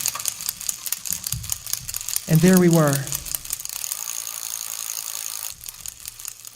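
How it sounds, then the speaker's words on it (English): Rapid mechanical clicking like ratcheting gears and turning wheels runs steadily through the scene, with a voice briefly speaking over it partway through. "I could hear gears clicking and wheels turning"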